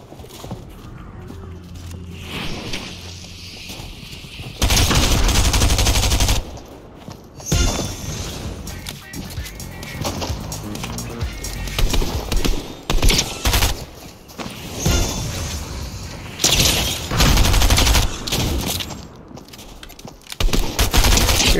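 Gunfire in Fortnite Chapter 3 Season 3, repeated loud bursts of rapid shots in clusters separated by brief quieter gaps, with little talk.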